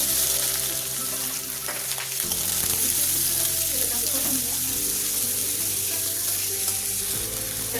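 Cumin, garlic and onion fry in hot oil for paneer bhurji, a steady close sizzle with a few stirring scrapes, and no talk over it.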